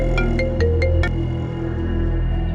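Mobile phone ringtone for an incoming call: a repeating melodic chime of short tones over a steady background drone, fairly loud and close, with no talking.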